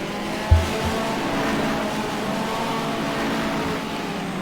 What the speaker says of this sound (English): he's now going to chase after the race in Welshman Stevens in the Toyota